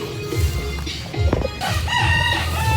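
A rooster crows loudly and close by, one long drawn-out call followed by another, with faint clucking of chickens around it.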